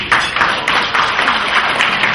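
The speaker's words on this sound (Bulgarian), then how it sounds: "Нека да започнем празничната ни програма с аплодисменти." A crowd applauds at an Easter Eve evening program at the Yastrebets hotel, a steady, dense clapping that fills the short moment without pause.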